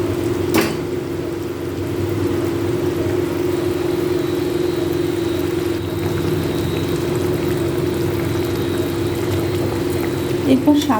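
Katla fish gravy with mango chutney and sweetener simmers in a pan, giving a steady bubbling hiss with a low continuous hum underneath, unbroken for the whole stretch.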